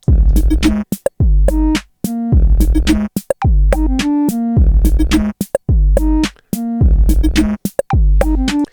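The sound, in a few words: pitched kick drum samples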